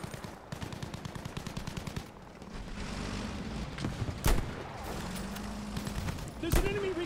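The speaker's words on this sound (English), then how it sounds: "Why are they shooting at us, huh?" Battlefield V combat during an assault on Japanese defenses, with rapid bursts of automatic gunfire, scattered single shots and a couple of sharp loud blasts, while voices shout over the battle.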